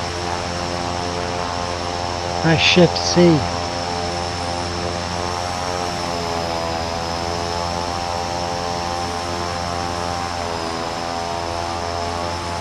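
Propeller aircraft engines drone steadily in Microsoft Flight Simulator 2024, a loud continuous multi-engine hum with harmonic whine, with a brief burst of voice partway through.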